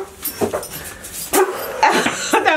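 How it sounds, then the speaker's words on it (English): Pet dogs bark and yip indoors, several sharp close barks in quick bursts with a whimpering edge, loud and alone. "now I know why they're barking."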